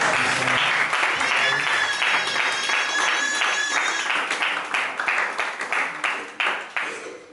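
A congregation at a church service breaks into loud, sustained applause that fills the room, with cheering voices over the clapping before it thins out into scattered, fading claps.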